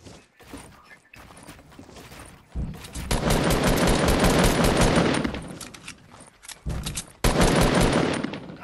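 Shotgun fire in Fortnite rings out in rapid bursts of loud blasts, first a short sparse volley, then a dense sustained barrage for several seconds, briefly pausing before another close, heavy stretch of shots.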